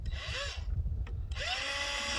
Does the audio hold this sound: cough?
no